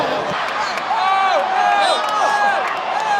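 A football stadium crowd roars steadily at a World Cup qualifier between Australia and Bahrain, a dense, loud wall of cheering with whistles and calls rising over it.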